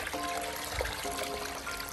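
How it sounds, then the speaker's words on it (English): Water being poured onto soil to dilute and extract clay, a steady splashing trickle with a faint tonal hum underneath. "by adding all this water to it"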